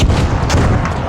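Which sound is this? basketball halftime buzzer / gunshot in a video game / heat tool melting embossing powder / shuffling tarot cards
gunshot in a video game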